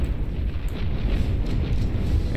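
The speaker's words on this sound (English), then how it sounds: "every time they fire, their cannons are just so cacophonous" Heavy tank cannons fire in the strategy game Beyond All Reason, heard as a dense, continuous roar of low booming blasts that overlap without pause, loud and rumbling, with no speech over them.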